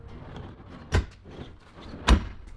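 A fridge slide pulls out of the rear of an overlanding Toyota Land Cruiser FZJ80, giving two short sliding thuds about a second apart. Each one is close and fairly loud against quiet background noise.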